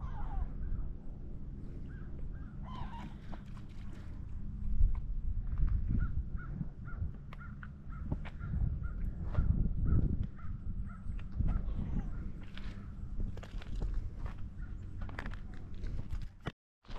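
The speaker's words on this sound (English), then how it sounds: "seagull." Seagull cries carry over a beach at low tide in Katy's Cove, St. Andrews, New Brunswick, repeated calls sounding at moderate distance above a steady outdoor wash of wind and ground noise.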